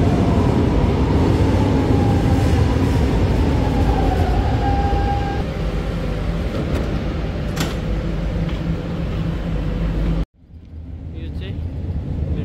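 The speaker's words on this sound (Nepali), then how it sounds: "यताबाट मेट्रो आउँदैछ।" A metro train pulls into a station in Portugal with a loud, sustained rumble and rising rail noise, then a high squeal as it brakes and an abrupt drop as it stops. A person talks over the noise.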